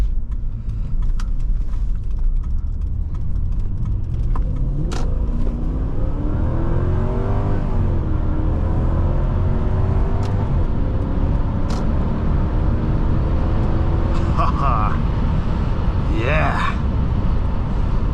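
A 2004 Lexus SC430 with a V8 engine accelerates while driving, its steady engine note rising and falling through several gear changes under continuous road noise, with a person talking over it.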